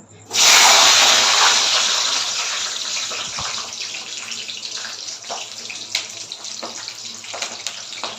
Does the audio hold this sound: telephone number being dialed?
no